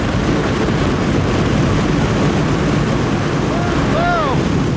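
Hurricane-force wind at category 5 speed, about 250 km/h, roars steadily and loudly through a wind test chamber, with faint whistling tones rising near the end.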